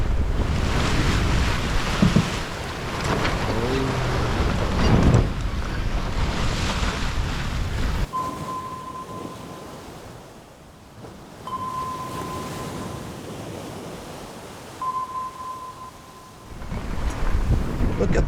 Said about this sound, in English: Look at those big waves.